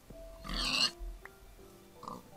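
A Minecraft pig oinks in a short, close grunt with a higher squeal in the middle, followed by quieter game sounds and no talking.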